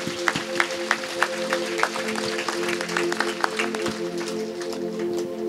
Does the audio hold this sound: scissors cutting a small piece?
no